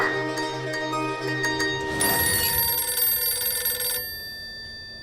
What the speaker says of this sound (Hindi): सत्तो, सत्तो, न जाने कौन नालायक फोन कर करके मेरे अखबार का समय खराब कर रहा है।